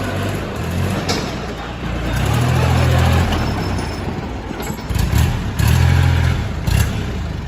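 A used Kubota L3608 SP farm tractor idles and revs on a farm, its diesel engine a loud, continuous rumbling drone that swells in two heavier surges, close up, with no talking.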